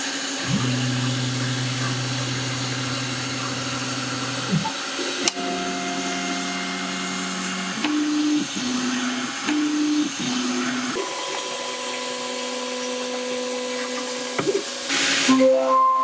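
A EufyMake E1 UV printer running a print job, giving a steady mechanical whir with shifting motor tones and pitch steps as the carriage moves, loud and close, with no voices.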